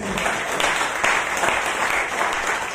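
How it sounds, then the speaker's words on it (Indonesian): A church congregation gives lively applause during a sermon, with brisk, continuous clapping from many hands filling a hall at steady loudness. "tepuk tangan yang meriah"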